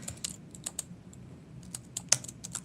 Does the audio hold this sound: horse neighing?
no